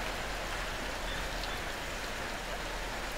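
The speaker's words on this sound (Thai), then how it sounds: "ฝนซ่าแล้วครับ" Heavy rain pours down in a dense, continuous hiss that stays steady and even throughout, with no voices.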